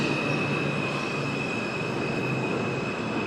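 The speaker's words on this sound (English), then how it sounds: "I hear a train a-coming." A New York City subway train approaching, a loud continuous rumble with a sustained high metallic wheel squeal ringing over it throughout.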